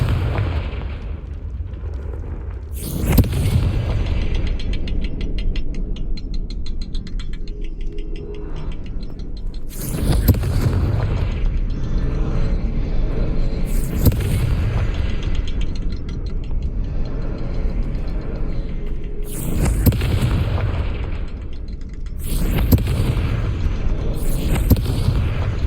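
Confringo spell explosions in the game Hogwarts Legacy, five heavy booming blasts at irregular intervals over a loud continuous rumbling game soundscape.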